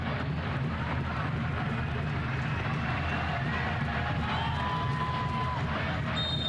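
Sellout crowd at a Colorado soccer stadium before kickoff, a steady dense roar of massed voices filling the whole stretch, loud and constant with a faint whistle near the end.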